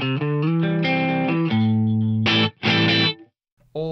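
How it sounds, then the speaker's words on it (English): A distorted electric guitar plays a short phrase of sustained notes and chords, dry with no echo repeats as a Strymon DIG delay pedal is bypassed, with a brief silence before a final chord. "let's just hear the tone with the delay bypass."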